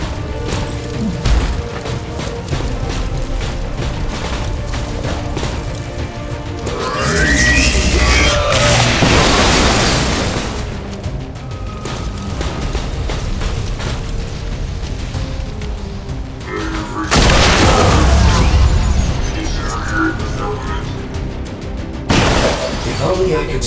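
Heavy booms and crashing blasts from incoming fire and explosions in XCOM 2: War of the Chosen, two loud surges rising over a steady game soundscape, with voices speaking at times.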